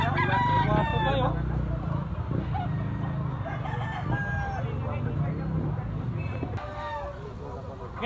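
A Duke Hulsey lemon gamefowl rooster crows loudly close by at the start, and other roosters answer more faintly in the background over steady farmyard noise and low chatter.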